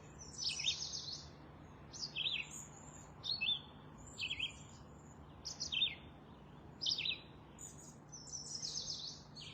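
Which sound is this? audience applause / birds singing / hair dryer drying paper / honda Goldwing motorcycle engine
birds singing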